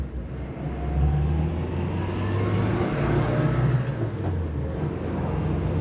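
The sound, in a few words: car accelerating up to speed on a 50 mph road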